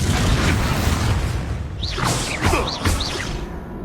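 A Confringo blasting spell goes off in Hogwarts Legacy amid a duel, with whooshing spell swishes and a booming burst over busy game sound and music, several rising magical zips following.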